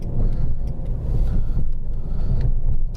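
Steady low road rumble and engine drone from inside a car moving with the windows up and the AC off, a muffled continuous hum with slight swells and no talking.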